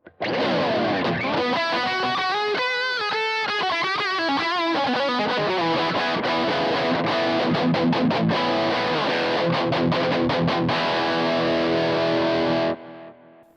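A heavily distorted electric guitar through an overdrive pedal into a Kemper Stage plays loud, gritty chords and riffs for about twelve seconds with sustained crunch, then cuts off abruptly.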